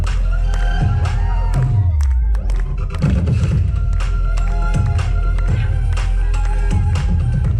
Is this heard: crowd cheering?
yes